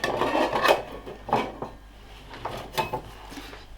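Metal grate of a Tigris Rocuboid wood stove being fitted during assembly, close scraping and clinking of thin metal parts in several irregular bursts separated by short pauses.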